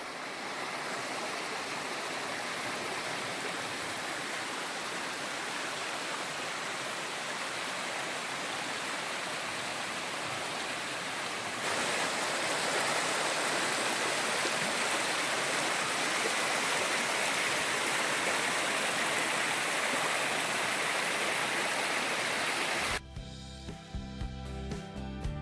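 Creek flowing into Lake Superior at a trailhead parking area on the North Country Trail, Pictured Rocks National Lakeshore, heard as a steady broadband rush of water that grows louder midway, then cuts off abruptly near the end.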